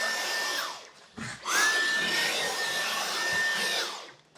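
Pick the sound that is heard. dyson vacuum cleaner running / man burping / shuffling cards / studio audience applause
dyson vacuum cleaner running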